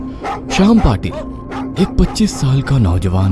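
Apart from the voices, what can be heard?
dogs barking outside the society gate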